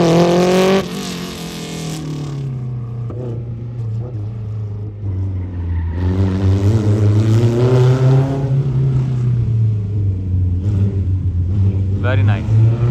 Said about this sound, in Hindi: इस गाड़ी का रन देखने का मजा है, रन देखने का और आवाज सुनने का।